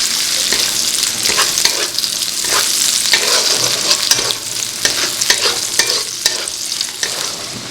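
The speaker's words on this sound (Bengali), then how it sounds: "এবার সেম কড়াইতেই চলে গেল সর্ষের তেল, আর তেলের মধ্যে চলে যাচ্ছে পেঁয়াজ।" Sliced onions stirred into raw, unheated mustard oil in a wok, a steady loud sizzle with repeated scraping stirs of the spatula, no voices.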